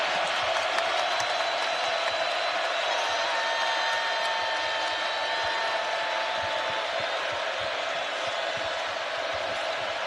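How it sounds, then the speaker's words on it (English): College basketball crowd at an Arizona NCAA game cheering and applauding, a loud sustained roar of voices and clapping that stays steady throughout. "Here comes the crowd."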